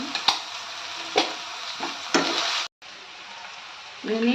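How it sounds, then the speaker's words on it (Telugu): Sliced onions fry in a pan for gongura chicken, a steady close sizzle broken by sharp stirring scrapes and clicks about once a second, then a short break. "ఆల్రెడీ ఒక ఆనియన్ కట్ చేసి చల్లగా పెట్టుకున్నాం కదా ఇవి ఇప్పుడు రెడ్డిస్గా వేగలివ్వాలి"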